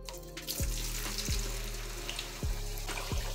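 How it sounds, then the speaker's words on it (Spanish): Cut potato pieces fry in a pan of oil, giving a steady, close hiss and crackle, with a few soft low thumps at intervals. "Ahora en una sartén con aceite vamos a echar las patatas"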